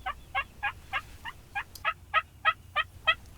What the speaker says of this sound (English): These longbeards are coming in strutting.